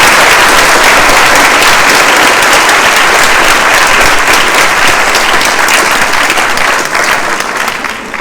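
Sustained audience applause at the finale of a French eloquence contest, dense steady clapping from a large crowd filling the whole stretch, loud and close, tapering slightly at the end.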